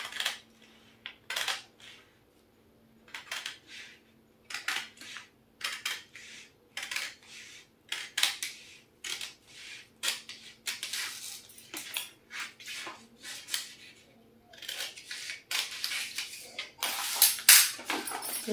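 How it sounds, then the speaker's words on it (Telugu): Scissors cutting by hand through fabric along a marked sleeve curve, making crisp, close snips in short irregular bursts separated by pauses, over a faint steady hum. "ఇప్పుడు కట్ చేసి చూపిస్తాను."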